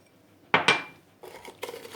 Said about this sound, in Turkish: Hepsini şöyle güzelce karıştırıyorum